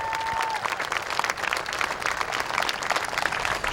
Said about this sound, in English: How about a big round of applause for these guys